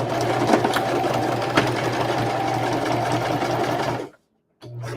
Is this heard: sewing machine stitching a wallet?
yes